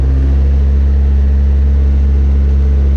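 A skid loader engine runs at a loud, steady, low drone close by, with a constant hum and no change in pitch.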